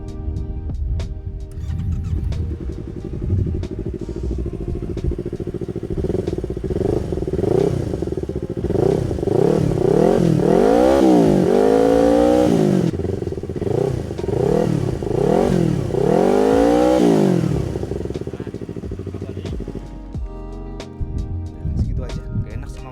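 Yamaha MT25 motorcycle, modified in neo-cafe style and fitted with an aftermarket R9 exhaust, revs repeatedly up and down up close, loud and throaty, each blip rising and falling in a steady sequence before settling back to idle.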